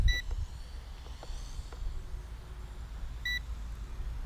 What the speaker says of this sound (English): it's starting to beep, so I'm going to bring it in